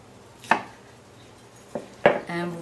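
A knife chops peeled tomatoes on a board for gazpacho, giving three sharp, close cuts spread across a quiet kitchen moment, the last followed by a brief scraping sound.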